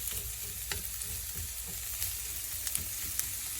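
Chopped onions cooking slowly in a pan for a tartiflette: a continuous soft, crackling sizzle with occasional small pops, close and steady, with no talking.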